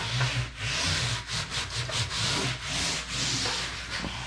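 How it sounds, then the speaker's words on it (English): Close, rhythmic rubbing as a Lysol wipe is dragged back and forth over a table surface, with repeated strokes and short gaps between them. "So I take the Lysol wipe and just wipe down"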